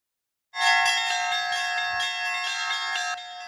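Church bell ringing with loud, sustained metallic tones that begin abruptly after a half-second of silence, then keep sounding in overlapping strokes with a rich, shimmering ring, heard alone with no talk.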